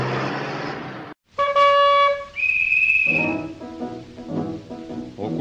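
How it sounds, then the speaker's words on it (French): A police officer's roller whistle at a Paris street corner gives a sharp, warbling blast lasting about a second, loud and close, followed by a brief higher shrill tone amid other street noise. "à coups de sifflets à roulettes et à coups de bâton blanc"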